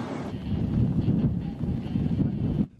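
Strong, constant wind buffets the microphone on an exposed hilltop, producing a loud, continuous low roar with rough gusting texture that drops away abruptly at the end.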